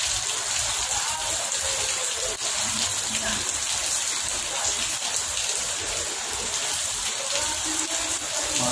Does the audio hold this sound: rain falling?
yes